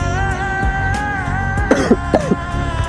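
A few short, phlegmy coughs from a chesty cough burst out near the end, close and fairly loud, over a steady background with a faint hum.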